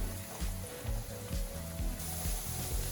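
Sabudana vadas deep-fry in hot oil until reddish, giving a steady close-up sizzle and crackle with a low bubbling pulse throughout, and no voices.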